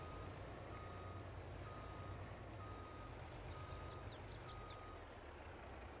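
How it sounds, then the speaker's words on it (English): Big fire truck backing up in Farming Simulator 22, a steady repeated reversing beep sounding at even intervals over a low idling engine rumble, with faint chirps midway. "Practice backing this big truck up."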